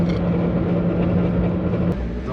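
A 1,000-horsepower Mitsubishi Evo cruising, a low steady engine drone heard from inside the car, with a constant hum and road rumble and no hard revving.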